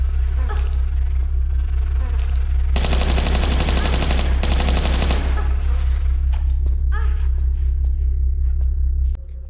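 Sustained automatic gunfire in a Tomb Raider Remastered game, aimed at giant wasps: dense rapid bursts over a constant loud low hum, heaviest in the middle of the clip before fading into scattered shots.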